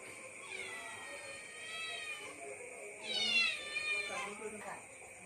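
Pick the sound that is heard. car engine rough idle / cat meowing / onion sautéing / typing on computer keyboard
cat meowing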